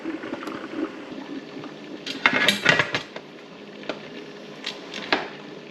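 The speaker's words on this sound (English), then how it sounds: "The canner's loaded up and we're ready to get the lid on it" Glass pint jars of sweet potatoes clink and a metal pressure canner lid clanks into place, a few sharp close knocks and scrapes over a faint steady hiss, no talking.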